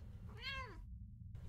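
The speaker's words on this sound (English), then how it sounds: "The cat! Yes! Kitty cat!" A cat in the video game Impostor Factory lets out a single short, clear meow against a low rumbling background, and then the sound cuts out.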